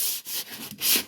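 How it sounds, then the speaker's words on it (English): Sandpaper rubbing over dried wood filler and spackling on an IKEA Billy bookcase, a close, steady scratchy rasp in short strokes with brief pauses, no voices. "I'm just going through and sanding this whole thing down"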